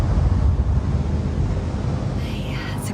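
Spacecraft engines with vertical thrust in the video game The Invincible, a loud, continuous roaring rush close up that eases slightly toward the end, with no talk.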